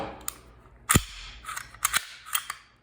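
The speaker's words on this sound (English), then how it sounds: "Let's safety check the weapon real quick for everyone." A Ruger P94 pistol being safety checked, with a series of sharp metallic clicks and clacks from the slide and action, one louder snap followed by several quicker clicks, close and clear without speech.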